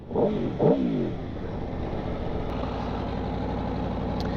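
A 2021 Aprilia Tuono V4 Factory 1100 motorcycle on its stock exhaust, revving up twice in quick bursts and then settling into a steady, throaty idle rumble, close and loud with no voices.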